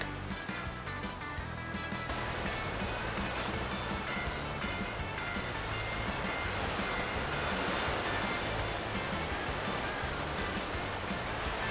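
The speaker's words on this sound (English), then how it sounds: "discovered more tiny little beach breaks at the J.T. Cheeseman Provincial Park" Surf at a small beach break in J.T. Cheeseman Provincial Park on Newfoundland's west coast roars steadily, a dense, unbroken wash of breaking waves at moderate distance with no voices.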